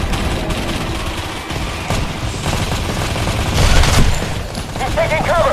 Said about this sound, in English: We have them on the suppressing fire.